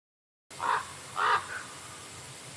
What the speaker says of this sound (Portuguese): O corvo, o mestre da inteligência.